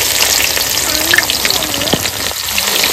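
Onions frying in hot oil with dried chillies and cumin for a home-cooked biryani, a steady close sizzle and crackle running throughout with no talking.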